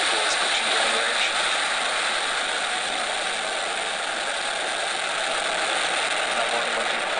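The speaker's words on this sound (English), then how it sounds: "Ignition, liftoff." A rocket engine ignites and lifts off on the launch carrying the Quetzal 1 satellite, a loud continuous broadband roar that holds steady and unbroken throughout.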